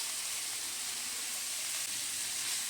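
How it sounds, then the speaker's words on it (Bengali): Mixed vegetables, including radish, carrot and beans, fry and are stirred in a pan for oats khichdi, giving a steady, close, continuous sizzle with no talking. "খুব ভালো করে নেড়েচেড়ে সবজিগুলো আমি ভেজে নেব"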